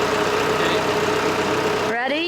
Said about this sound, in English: You want permission to kill the engine?